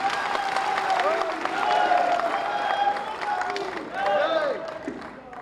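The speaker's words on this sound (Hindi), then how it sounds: "निवेदन करूंगा जोरदार तालियां देकर स्वागत करेंगे" Audience at the main ceremony in Udaipur for Maharana Pratap's 483rd birth anniversary applauds to welcome CP Joshi, the BJP state president, a steady wash of clapping with a few cheers, mixed with voices and music-like tones.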